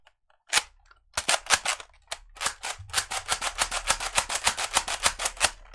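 A Nerf Mediator blaster fires close by: a few isolated sharp snaps, then a long rapid train of crisp, loud cracking shots in steady rhythm.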